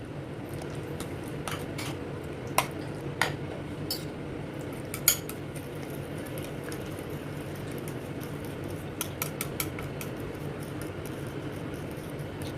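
Custard sauce being whisked into mango pulp in a bowl: a quiet, steady scraping swish with scattered light clinks of the whisk against the bowl, no voices.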